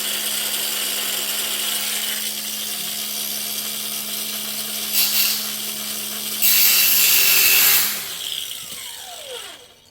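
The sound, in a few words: grinder grinding metal for trailer gate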